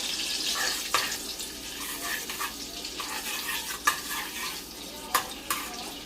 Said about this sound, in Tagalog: Sasaputsa na tayo